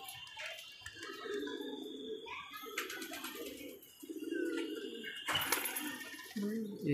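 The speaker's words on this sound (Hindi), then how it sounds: "अंदर से कबूतर बाहर आने की कोशिश कर रहे हैं।" Pigeons inside a coop give repeated low cooing calls in short bursts, mixed with flutters and scraping, while people talk close by.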